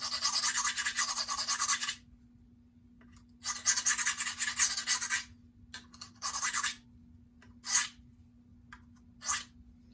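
A 14C28N steel sandpaper knife is sharpened on a medium diamond stone, giving a dry, bright rasping scrape. It comes in a long stroke, then another long stroke, then several shorter strokes, close and alone.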